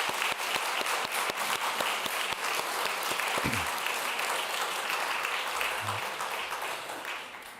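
An audience at a spring awards ceremony applauds the nominees with sustained, dense clapping that fills the room at an even loudness before slowly tapering off near the end.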